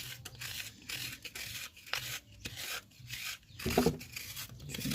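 A flat kidney tool scrapes around the inside of a clay pinch pot, giving a dry, gritty rubbing that comes in uneven close strokes with brief pauses and a louder, rougher pass near the end.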